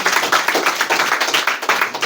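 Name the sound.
students clapping for a classmate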